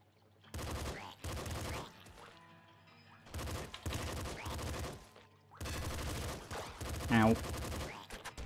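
SMG bursts in the top-down shooter Nuclear Throne, several rapid rattling volleys about a second long separated by short gaps, loud and crisp, with chiptune-like game effects and a rising electronic blip between them.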